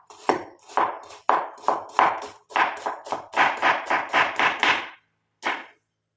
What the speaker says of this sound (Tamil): இதை வந்து குட்டி குட்டி பீஸாக கட் பண்ணிக்கலாம்